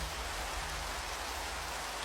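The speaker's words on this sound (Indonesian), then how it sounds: "Kemudian hujan turun dengan lebat" Heavy rain pours down in a dense, even hiss, loud and constant with no break, and no voices are heard.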